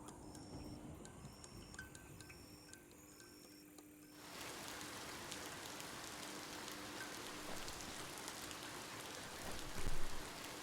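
Rain falls steadily in the Biomutant video game world, a soft, continuous patter that thickens and grows fuller partway through and stays as an even wash, with faint tonal game sounds early on.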